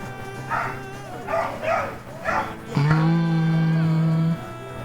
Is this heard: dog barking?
yes